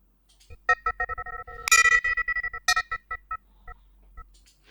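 Processed synthetic chimes from SoundThread, starting with sparse bell-like pings that thicken into a dense bright run of rapid strikes, then thin out again to scattered faint tones. Close and clear with no voices.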